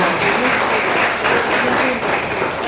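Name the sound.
audience applause for the children's forum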